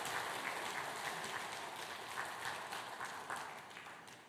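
Congregation applause at a church baptism during a Sunday worship service, a steady, dense wash of many hands clapping that holds at a moderate level throughout and tapers only slightly toward the end.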